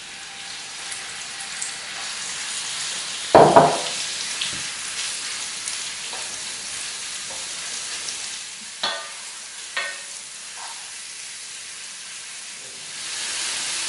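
Beef goes into a hot sauté pan with paprika, a loud sizzle bursting up and then settling into a steady fry, broken by a few scraping stirs.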